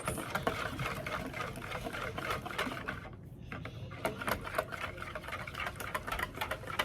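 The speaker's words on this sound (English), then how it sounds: "So we take our whisk, and we just go in there, and you're just gonna stir at this point." A whisk stirs savory ingredients in a bowl, making quick, close, rapid clattering taps that run fast and steady, with one brief pause partway through.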